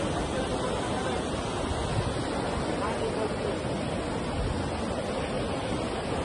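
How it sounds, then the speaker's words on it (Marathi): A river rushes rapidly past near a temple by a suspension bridge, a loud continuous broadband roar with wind buffeting the microphone and a voice talking over it. "संपूर्ण पाणी वाहत एकाच्या साईडनं."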